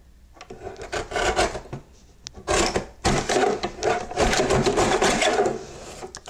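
Cardstock edges are trimmed on a cutting board, producing bursts of dry rasping cuts in quick succession, close and fairly loud, with short pauses between strokes.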